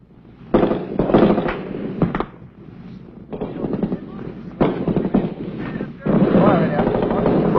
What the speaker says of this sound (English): least 30 VC opened fire from the village ahead. Bullets rip through the leaves